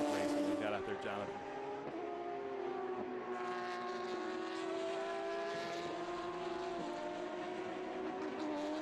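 Race cars roaring around the Watkins Glen circuit during an International GT enduro, a sustained layered engine drone with rising and falling pitch as cars pass, heard faintly from a distance.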